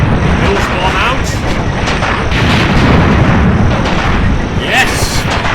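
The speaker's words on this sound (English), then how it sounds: "Mills bomb out." A Mills bomb hand grenade goes off amid a loud World War II North Africa battle, the blast lost in dense continuous gunfire and booming artillery, with voices shouting over the din.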